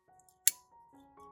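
One sharp, close snip of household scissors, a single crisp metallic cut in an otherwise quiet room with faint tones around it.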